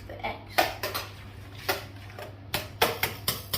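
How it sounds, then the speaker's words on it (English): A whisk or fork clatters against a bowl while eggs are beaten for a quick carrot cake, giving a string of sharp, close metallic taps and scrapes in irregular bursts with short pauses between them. "now we're gonna whisk the eggs"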